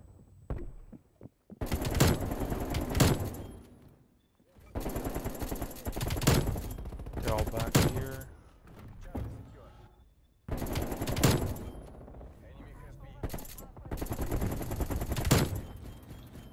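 AK47 fire in Call of Duty Cold War, long loud sustained automatic bursts separated by short pauses, with a voice talking over and between the gunfire.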